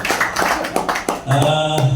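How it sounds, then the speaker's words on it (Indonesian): People at a company cooperative gathering clap in uneven bursts, loud and close, while a sustained musical tone enters partway through. "Kita beri tepuk tangan untuk Koperasi Karyawan."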